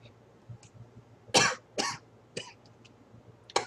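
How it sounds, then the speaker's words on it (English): Several harsh coughs from a Star Wars video game sound in short bursts, spaced a moment apart, close and fairly loud against quiet background. "Cough! With a funny sound."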